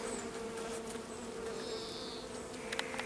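Honeybees buzz in a dense, steady drone at a hive holding two queens, close and continuous with no voices.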